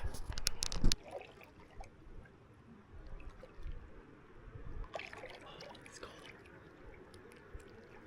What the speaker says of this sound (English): I'm gonna go take a quick dip in the water and cool off